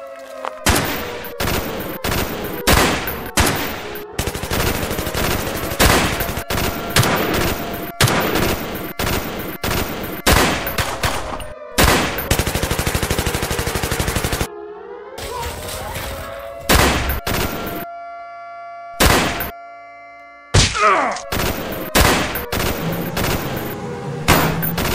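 Gunfire in a film battle scene, with rapid bursts and dense volleys of shots, loud and close, broken by short silent gaps.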